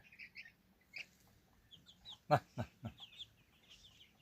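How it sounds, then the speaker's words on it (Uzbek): Scattered soft clucks and peeps from one-month-old chicks just out of their coop, with a few short high calls and a louder burst of clucking midway, fairly quiet overall. "Mana jo'jalarimiz xudo xolasa hozir kataydan chiqdi."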